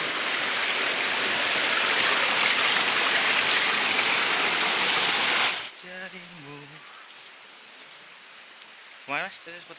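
Rushing water of the Curug Cileat waterfall near a campsite in Subang roars as a loud, steady hiss for about five seconds, then fades back as someone speaks over quieter surroundings.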